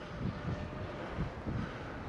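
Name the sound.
drone flying overhead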